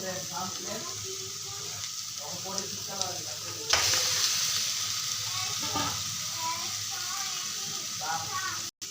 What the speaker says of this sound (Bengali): মশলাটা কষানো হয়ে গেছে, এখন ডিমগুলো দিয়ে দেব।